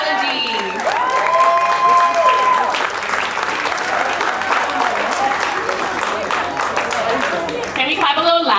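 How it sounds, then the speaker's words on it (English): A crowd at a youth music scholarship showcase in an arts community center claps loudly and continuously for several seconds, while a voice speaks briefly over the applause near the start. "Can we clap a little louder for her, you guys?"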